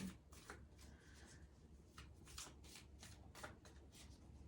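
Tarot cards are shuffled and handled up close, making a quiet run of papery riffles and soft flicks that ends with a card being drawn.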